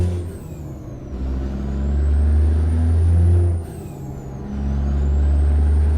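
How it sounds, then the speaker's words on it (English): Deep diesel rumble of a Mack truck in American Truck Simulator, its jake brake engaging in two long, loud, chattering surges with a faint whistling tone sweeping overhead, easing off briefly between them. "This jake brake's super effective."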